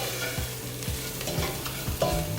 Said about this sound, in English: I'm going to add the spices. Give that a stir.